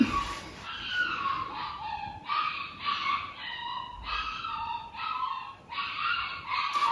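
A dog barks and yips in repeated short bursts, several rhythmic calls in a row, fairly close and clear with no talk over it.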